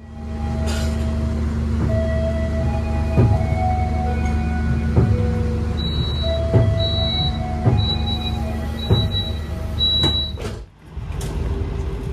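Interior of the Lodaya passenger train stopped at Kiara Condong station: a steady low engine rumble with recurring tonal beeps and chimes, a brief clatter near the end, no speech.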